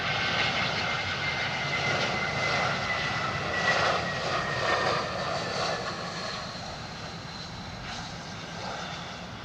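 Steady, fairly loud aircraft engine noise at an airport during startup, a continuous broadband roar with a faint rising whine that holds throughout and eases slightly toward the end.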